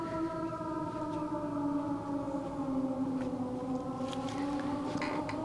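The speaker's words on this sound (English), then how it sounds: "And then the sirens burst back up." A steady, wailing siren holds a drawn-out tone that slowly bends in pitch, droning continuously at moderate distance.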